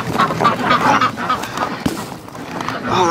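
Ducks and geese wintering outdoors honk and quack in a busy, overlapping chorus, fairly close and loud, with splashing from a hose-fed bath underneath.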